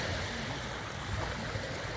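Sea at Yeşilköy beach, a sandy shore beside a harbour, giving a steady, soft wash of water with low rumbling surges and no voices, holding even throughout.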